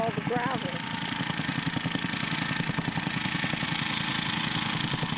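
A gasoline-powered compactor runs steadily close by at a construction site, its engine chugging in a fast, even pulse throughout, with a brief voice over it near the start.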